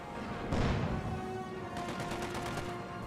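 In a Company of Heroes 2 battle, a machine gun rattles in a fast, steady stream. The fire is heard at moderate distance after a duller blast, with a constant battlefield rumble underneath.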